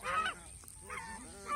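Farm geese give three honking bursts, loud and close, separated by brief quieter gaps, with a faint low hum underneath.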